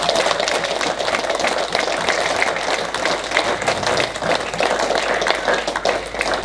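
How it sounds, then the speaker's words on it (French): Congregation applauding loudly in a church service, a thick continuous wash of clapping that holds steady throughout with no speech over it. "Si je t'ai parlé, est-ce que tu peux applaudir très fort?"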